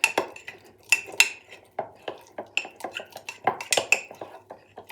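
Spoon mixing chocolate mug cake batter in a mug, a series of sharp clinks and taps against the mug walls in an irregular rhythm, close and alone.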